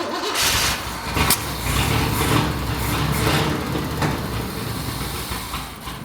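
Pontiac Phoenix engine running cold with the choke wide open, bad spark plugs and a straight pipe exhaust, a loud, rough, continuous close-up roar with uneven low rumbling pulses and occasional sharp pops.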